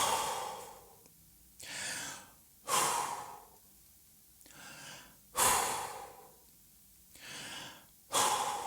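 Deep rhythmic breathwork breathing, alternating strong inhales and forceful exhales in a steady cycle, close and fairly loud, with no talking.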